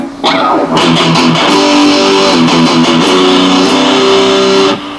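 Electric guitar played through a Metal Zone distortion pedal, with mids cut and highs at half, giving a thick, saturated sustained chord and riff that rings loud and close, alone with no talking, for about five seconds.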